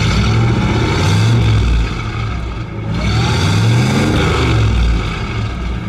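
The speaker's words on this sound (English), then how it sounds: "Go ahead, give it a rev." A 1958 Buick Century engine revving up loudly and falling back, rising and dropping in two or three swells, close and powerful.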